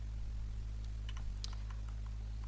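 A computer keyboard is tapped in a short, quiet burst of scattered clicks, about a dozen keystrokes over a steady low electrical hum, close but faint.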